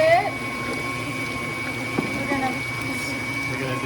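An electric mixer beats eggs into choux pastry dough, giving a continuous whirring motor drone that holds steady and close throughout.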